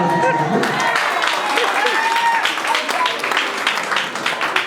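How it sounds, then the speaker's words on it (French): Guests at a Gabonese wedding ceremony applaud loudly, a dense continuous roar of clapping and crowd noise with voices and a few cheers mixed in throughout. "On applaudit très fort."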